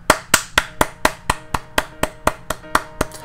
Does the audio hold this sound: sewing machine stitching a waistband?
no